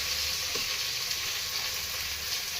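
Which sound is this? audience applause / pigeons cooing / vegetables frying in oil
vegetables frying in oil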